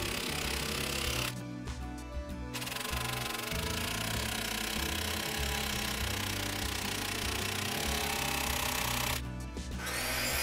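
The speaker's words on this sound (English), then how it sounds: "that baby impact driver sure came in handy" An impact driver sinks 3-inch screws into wall studs to hang a cabinet, its loud, rapid hammering rattle running almost continuously up close, broken by two brief pauses.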